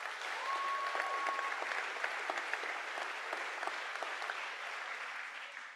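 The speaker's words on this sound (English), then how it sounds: "please give yourselves a round of applause" A graduating high school class of 2024 applauds together at their commencement ceremony, a dense, steady wash of clapping from a large crowd that holds at full strength for several seconds before easing slightly at the end.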